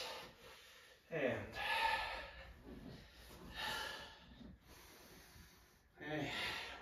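During a yoga child's pose, a person takes slow audible breaths, soft inhales and exhales rising and falling in long waves several seconds apart, quiet and close.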